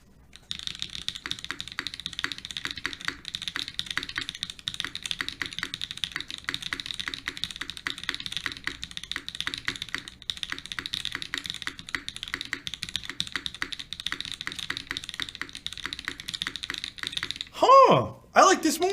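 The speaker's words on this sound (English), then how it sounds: "this is a totally different sounding keyboard now" Fast, continuous typing on a Bulwark TKL mechanical keyboard, the crisp key clacks close and steady for most of the passage, with a brief voice near the end.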